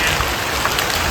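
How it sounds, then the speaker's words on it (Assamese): Heavy rain pours down steadily, a dense close hiss of drops drumming on surfaces with no break or voice over it. "বৰষুণ দিলে চেচ"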